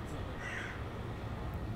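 A crow cawing outdoors, a brief, harsh call buried in steady, loud street and wind noise, fairly faint and distant.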